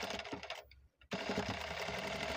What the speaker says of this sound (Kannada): ಈ ರೀತಿ ಸ್ಟಿಚ್ ಮಾಡ್ಕೊಳ್ಳಿ